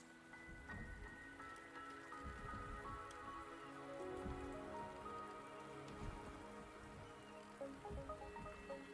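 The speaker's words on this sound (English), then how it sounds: "The rain is subsiding" Steady rainfall in the Wuthering Waves game world, a dense patter of drops hitting surfaces that holds even and close throughout, with no voices.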